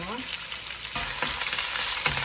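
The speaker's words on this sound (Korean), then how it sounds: "파부터 볶고 향내를 위해서" Green onions stir-frying in cooking oil, with a loud, dense sizzle that swells as they hit the pan, broken by brief stirring scrapes.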